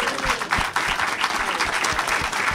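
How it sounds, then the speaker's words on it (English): Audience applause for panelists at a book club discussion, steady, fairly close clapping from a modest crowd with some individual claps standing out, lasting a few seconds. "Clap it up for the panel."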